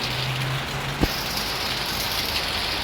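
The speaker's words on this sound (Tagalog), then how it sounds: "ang lakas ng ulan." Heavy rain pours steadily in a dense, loud hiss, with a low hum fading out early and a single thud partway through.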